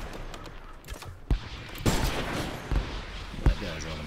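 Gunfire in Shotgun Farmers, a shooter game: scattered sharp shots and bursts over a few seconds, loud and close, amid continuous game noise and a talking voice.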